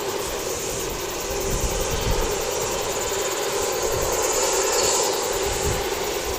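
A Jetstar Airbus A320 jet airliner at Wellington Airport gives off a steady, broad engine roar with a high whine on top, holding at a fairly even level throughout with no voices.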